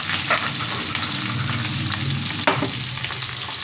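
Onions and green chillies fry in a pan for vegetable fried rice, giving a steady, close sizzle with occasional scraping stirs.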